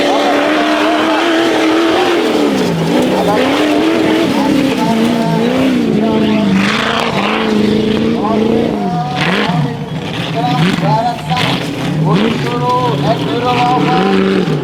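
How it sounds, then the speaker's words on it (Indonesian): Enduro motorcycles racing past in the Dilan Open class at the FORNAS VIII event in West Nusa Tenggara: loud, wavering engine tones rise and fall as bikes rev through continuously, with a commentator talking over them. "kita saksikan pembalap-pembalap enduro yang berlaga di kelas Dilan Open kali ini sudah mulai melintas"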